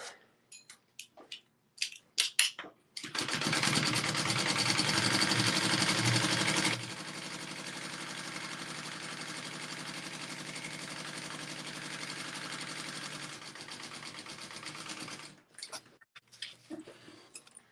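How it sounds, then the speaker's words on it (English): Sewing machine top stitching a bag, running in one long continuous whir for about twelve seconds after a few short starts, close and steady, louder at first and then a little softer, with no voices during the run. "Are we top stitching too?"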